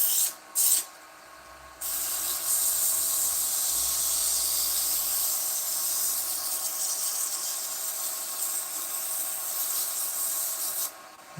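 Handheld power sander working a succulent holder, a steady loud rasping hiss that runs continuously for most of the span after a couple of short bursts at the start.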